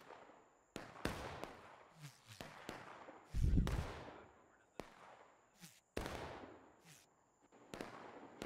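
Musket volleys crack across the battlefield in the Civil War video game War of Rights at night, with a dozen or so irregular sharp shots, some close and loud, others more distant.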